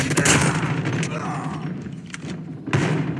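Rapid gunfire bursts in a shooter video game, a headshot exchange with an AK-47, loud thumping shots packed together at the start and again near the end, with a voice talking over them.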